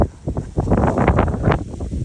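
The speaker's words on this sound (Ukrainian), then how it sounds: "Ось такий вітер сьогодні знову." Strong wind buffets the microphone in heavy, gusting roars, loud and close throughout with no talking.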